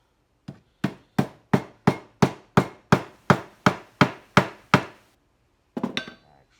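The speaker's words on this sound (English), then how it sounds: "Now just take a ball peen and just kind of work on it." A ball peen hammer beats metal shoulder armor with about a dozen sharp, evenly spaced ringing blows close by, followed after a pause by a quick rattling flurry of lighter strikes.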